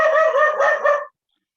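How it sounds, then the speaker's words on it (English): A dog barks close by, one loud, drawn-out bark-howl lasting about a second, followed by silence. "Sorry about my dog."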